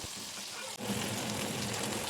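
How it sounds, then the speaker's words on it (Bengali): Bottle-gourd-leaf-wrapped chepa shutki (dried fish) fritters fry in hot oil with a steady, dense sizzle that holds throughout, broken only by a momentary dip near the start. "আরও কিছুক্ষণ ভাজা ভাজা করে নামিয়ে নিচ্ছি"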